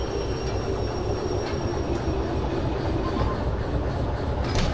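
A train rolls along in the Derail Valley railway simulation game, its low rumbling hum and wheel noise running continuously, with faint clicks and squeals over the steady engine drone.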